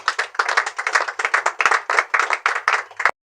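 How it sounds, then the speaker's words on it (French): A crowd claps steadily at an orphanage ceremony, the applause coming in a quick, even rhythm of close, bright hand claps that stops abruptly at the end. "Est-ce qu'on peut encore acclamer s'il vous plaît?"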